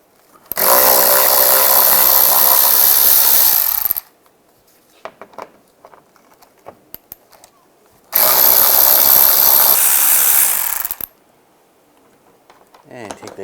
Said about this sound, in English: You want to take those bolts out. Use a 10mm socket.